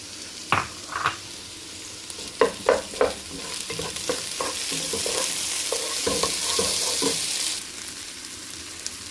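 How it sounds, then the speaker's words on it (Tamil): Ginger and garlic sautéing with onion in a pan, a steady sizzle broken by several sharp scraping stirs and knocks of a spoon against the pan, rising into a brighter hiss near the end. "இஞ்சி வெள்ளைப்பூடு நல்லா வதங்கிட்டு"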